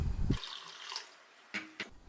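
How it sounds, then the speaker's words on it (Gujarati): Husked lentils are swished and washed in a bowl of water, with a close burst of splashing, a quiet pause, then two short sloshes. "પાણી નાખીને 2 થી 3 વાર એને સારી રીતે ધોઈ લઈએ."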